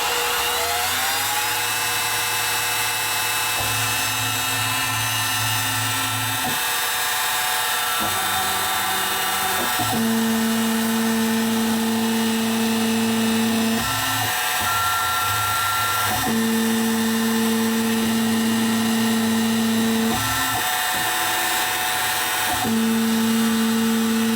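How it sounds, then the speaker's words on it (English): A machine drill with a 1/8 stub drill whines steadily and loudly, its pitch shifting in repeated cycles as it bores holes through metal without pecking, with a constant mechanical hum underneath. "I'm going to drill 4 holes."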